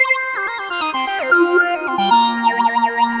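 A synthesizer plays an analog-style patch with gliding, bending notes over a sustained low tone and a wavering high sweep toward the end, loud and alone with no voices.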